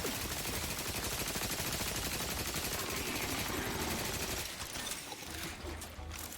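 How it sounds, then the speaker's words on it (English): Sustained automatic gunfire in a video game as the MK4 is shot at, a dense, continuous rattle of rapid shots that stays loud for several seconds before thinning slightly near the end. "Alright, keep shooting at this one."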